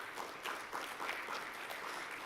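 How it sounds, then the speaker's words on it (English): An audience at a youth and family advocate summit gives steady, even clapping that fills the room for a couple of seconds. "give yourselves an intentional applause just for being here"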